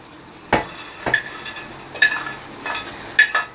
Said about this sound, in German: Jetzt geben wir die angerösteten Speckwürfel dazu.